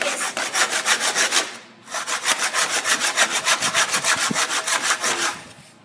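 A hand saw cuts through wood for a bird house in fast, steady back-and-forth strokes, loud and close, with a short pause before the sawing resumes.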